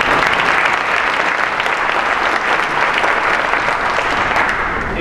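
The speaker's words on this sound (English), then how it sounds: "Can we have a round of applause for Judge Emmett and his office?" Steady, dense applause from a crowd at a chamber of commerce economic forum, honoring Judge Emmett and his office, sustained and fairly loud for several seconds without pause.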